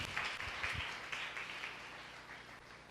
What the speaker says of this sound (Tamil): கை தட்டிகிட்டே இருங்க, அப்போ தான் அவர் சீக்கிரம் வருவார்.